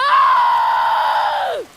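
A young woman's sustained, high-pitched scream, loud and close, holding steady for about a second and a half before falling away sharply at the end, with no talk over it.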